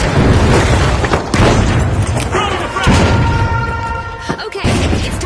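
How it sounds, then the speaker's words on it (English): A frag grenade goes off in a video game as a string of loud, heavy booms and rumbling blasts, the explosions crowding the clip with a brief voice heard amid the din. "Frag grenade out!"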